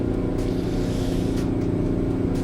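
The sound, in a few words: Detroit 12V71T diesel V12 truck engine, American Truck Simulator video game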